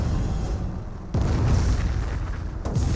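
Nebelwerfer rocket artillery barrage striking the ground in Company of Heroes, two deep, loud booming impacts about a second and a half apart, each with a rumbling tail.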